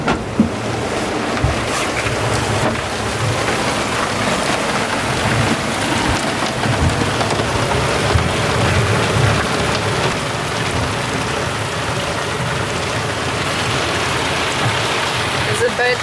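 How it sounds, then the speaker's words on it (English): Heavy rain from a thunderstorm near Ibiza and Mallorca pours down in a dense, unbroken hiss for the whole stretch, with low rumbles rolling underneath. "Over the next week and a half, we got quite a lot of thunderstorms"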